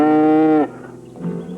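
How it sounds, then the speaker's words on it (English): A single long, loud moo from cattle, close by, holding steady for about half a second before cutting off, followed by quieter low lowing from the herd. "Cattle."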